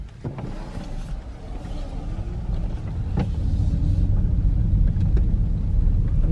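A 2010–2015 third-generation Toyota Prius driving slowly through a neighborhood, giving a low rumbling road and cabin noise that gradually builds in level, with a few faint knocks inside the car.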